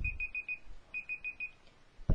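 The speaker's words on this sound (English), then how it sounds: "you heard the alarm, didn't you?" An alarm beeps in two bursts of four rapid high-pitched tones separated by a short gap, clear and fairly close, with no talk over it.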